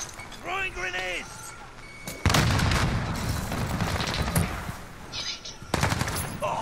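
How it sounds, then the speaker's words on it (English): Heavy booms and sustained rattling gunfire fill a Call of Duty: Modern Warfare firefight after a short stretch of speech, with a second loud blast near the end amid continuing chatter. "Throwing grenades."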